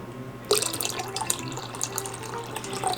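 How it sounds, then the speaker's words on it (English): Hot water is poured into a measuring cup of currant juice to top it up to the four-cup mark, a close, continuous liquid splashing and trickling that begins abruptly and carries on steadily. "I'm just going to bring the water up till we get the 4-cup mark"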